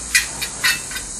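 Short bursts of steam hiss puff out from an H0e model ÖBB MH 399 steam locomotive in an uneven rhythm, four soft chuffs over a steady airy background.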